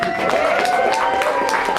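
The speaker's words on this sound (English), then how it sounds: "Round of applause for yourself." Applause from a poetry slam crowd at a women's festival, with scattered claps under a long held whoop or voice running through the clip.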